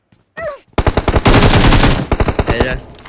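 Rapid automatic gunfire from a competitive team scrim in a first-person shooter, with dense bursts of shots repeating loudly and close after a brief voiced sound at the start.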